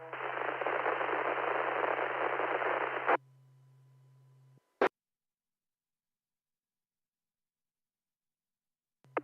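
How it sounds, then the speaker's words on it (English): Broadband white noise hiss from an amateur radio station on a net, loud and steady for about three seconds, then a faint tone, a sharp click and a long silence ending in another brief click. "there was an RF station in there, nothing but white noise"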